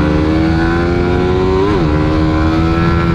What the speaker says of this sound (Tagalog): Pero ang tining pa rin ng makina,